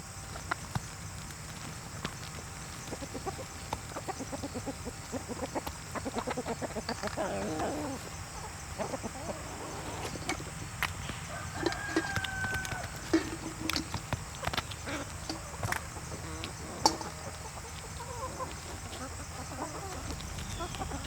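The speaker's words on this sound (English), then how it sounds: "Rogue chicken." Farm chickens cluck intermittently at a distance outdoors, soft scattered calls over steady background noise and occasional knocks, with no talking.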